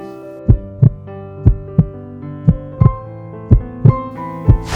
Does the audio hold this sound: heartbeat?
yes